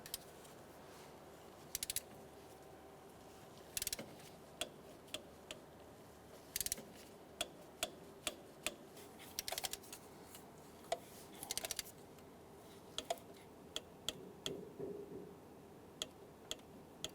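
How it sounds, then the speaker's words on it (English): A torque wrench tightens the alternator bolts on a 2003-2011 Honda Element, giving a close series of sharp, irregular ticks and clicks over a quiet workshop background with no talking. "torque down these bolts to 16 foot-pounds"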